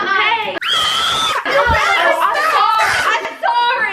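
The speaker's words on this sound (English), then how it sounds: "Don't be screaming. That's really freaking loud." Loud, sustained child screams fill the room during a holiday gingerbread-house and cookie-making session, with shrill squeals, giggles and overlapping young voices carrying on for several seconds.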